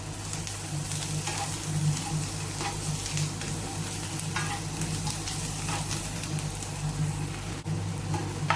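A fish roast masala being stirred in a pan gives a continuous close sizzle and frying hiss, with repeated spatula scrapes and stirring strokes throughout and no voices.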